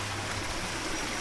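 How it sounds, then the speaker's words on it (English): Steady rushing water runs past a wooden water wheel in a preserved Japanese post town between Magome-juku and Tsumago, a continuous even wash of flow with no voices. "here's one of the water wheels this town is famous for"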